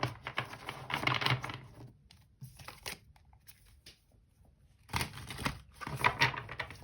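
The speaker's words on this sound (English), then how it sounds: "I don't want to shuffle this too hard" Tarot cards being shuffled gently by hand, two bursts of soft riffling and slapping separated by quiet shifting, close and fairly quiet.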